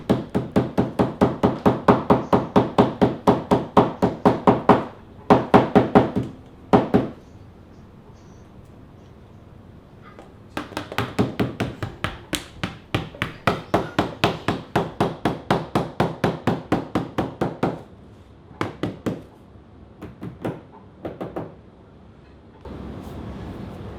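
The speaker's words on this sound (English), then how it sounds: "Or if you have a rubber mallet or hammer, that'll be the best." Rubber mallet tapping T-molding onto an arcade cabinet, a long series of rapid, even knocks in bursts separated by short pauses, close and fairly loud.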